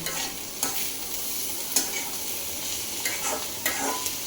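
Bitter gourd fries in a pan with a steady hissing sizzle close by, punctuated by a few light scrapes and clinks of a spatula, and no one speaks.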